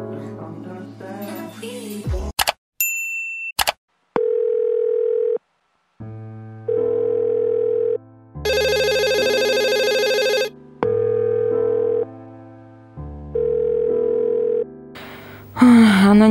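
A telephone call goes unanswered: short bursts of dialing tones give way to a repeating ringback tone in evenly spaced pulses with gaps between them, then a final cut-off, loud and with no talking.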